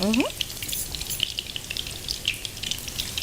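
Onion and garlic hit hot oil in a pan with a brief sharp hiss at the start, then settle into a steady, close crackling sizzle with small pops throughout.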